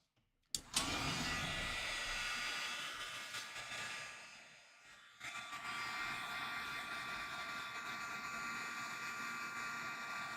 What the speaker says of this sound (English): So let me grab my heat gun.